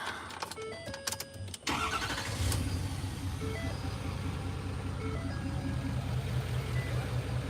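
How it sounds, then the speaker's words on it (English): Air suspension bag compressor running on a car, a steady low mechanical hum and drone after a few sharp clicks and clatters at the start, continuing close and even to the end. "it sounds like a compressor airing down"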